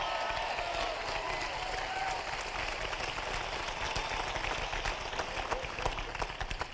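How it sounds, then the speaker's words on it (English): A crowd claps steadily and briskly, a dense wash of applause that stays loud throughout with no pauses. "Whenever we clap with enthusiasm and excitement."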